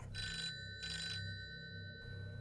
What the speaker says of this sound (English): that damn phone would ring